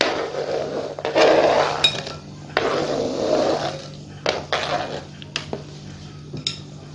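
Apples and other fruit for a creamy fruit chaat being cut into cubes with a knife, giving a run of sharp clicks and taps on a board, some clustered and some spaced out, close by with no talking.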